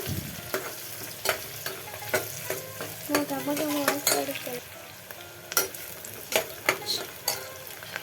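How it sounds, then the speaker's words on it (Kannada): Onions frying with kasuri methi in a pan for ghee rice: steady close sizzle with repeated spatula stirring, scraping and sharp taps on the pan, louder bursts of stirring midway, no talk. "ಸ್ವಲ್ಪ ಫ್ರೈ ಮಾಡೋಣ. ಈರುಳ್ಳಿ ಫ್ರೈ ಆಗಬೇಕು."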